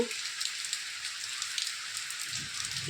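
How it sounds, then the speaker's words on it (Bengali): Rain falls in a soft, steady hiss of drops that continues without a break. It is faint and distant, and no voices are present. "আকাশ বৃষ্টি করছে দেখে খুব ভালো লাগছে"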